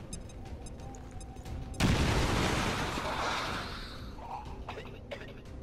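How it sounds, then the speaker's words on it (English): Grenade blast in the X-Com 2 video game: a sudden loud broadband burst erupts after a quiet stretch, then rumbles and decays over several seconds, with a voice talking over it. "I'm going to blow this motherfucker up. Grenade"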